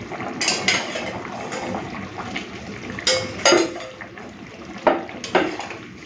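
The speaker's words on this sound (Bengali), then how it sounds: "চলুন এখন দিয়ে দেবো ভেজে রাখা কই মাছগুলো।" Fried koi fish pieces go one by one into a simmering fish gravy with potatoes, making several soft splashy plops and utensil clinks against the pot over a low bubbling background.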